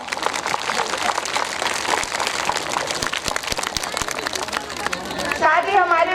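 An outdoor crowd at a farmers' fair in Dilauri, Azamgarh, applauds to welcome a guest with dense, steady clapping. A voice comes in near the end.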